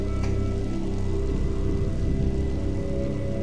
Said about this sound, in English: Fire protection from acid rain.